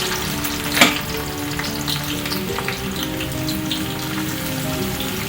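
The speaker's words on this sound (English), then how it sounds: "we are going to fry the onions batch by batch" Onions deep-frying in plenty of vegetable oil in a wok, with a loud, dense, rain-like crackling sizzle that runs steadily throughout and one sharper knock near the start.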